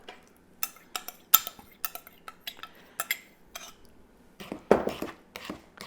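Wet and dry blueberry muffin batter gently folded together in a bowl, giving a series of close, soft scraping and clinking taps of a utensil against the bowl at an irregular rhythm, with no talk.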